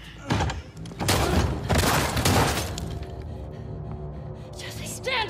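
A gunshot in The Last of Us Part II, with loud, heavy blasts and crashing impacts in the first seconds that settle into a lingering rumble and tense background noise.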